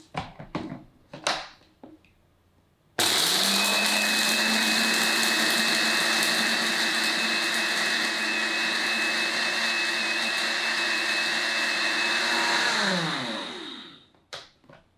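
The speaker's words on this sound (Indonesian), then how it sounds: "ini kita blender halus dulu bumbu keringnya" Kitchen blender grinding dry rendang spices, including nutmeg, into a fine powder: after a few soft handling knocks it roars on at full power, holds a steady loud whirring drone for about ten seconds, then winds down and stops.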